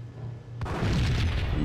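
A gunshot and explosion in the Max Payne video game: a sharp boom hits suddenly and rolls into a loud, rumbling blast that lingers under low ambient background.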